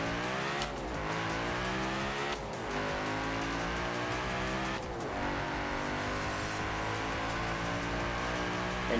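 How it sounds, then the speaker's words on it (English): A car engine revs hard while racing in Forza Horizon 4, its pitch climbing through each gear and dropping sharply at three shifts, loud and continuous with no talking. "I'm just loving the sound of this engine compared to my car in 5"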